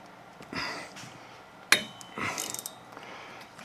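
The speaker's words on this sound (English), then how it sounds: "I'm going to put a little wrench on top here and hold it while I turn this one." A wrench turning on the front shock stud of a second-generation Ford Ranger: a few short metallic clicks and scrapes, one sharp snap in the middle, close and fairly quiet.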